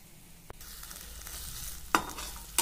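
Chopped spring onion greens stirred while frying in a pan: a soft sizzle swells after a light knock, broken by two brisk scraping stirs toward the end.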